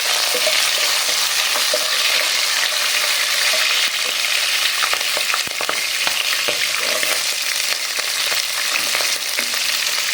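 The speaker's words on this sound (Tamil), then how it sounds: "இப்போ பார்த்தீங்கன்னா கருவேப்பிலை ஆட் பண்ணிக்கலாம். பச்சை மிளகாய் எல்லாம் ஆட் பண்ணிக்கலாம்." Curry leaves and green chillies frying in oil in a pan, producing a loud, steady close-up hiss and crackle with intermittent stirring scrapes and no voices.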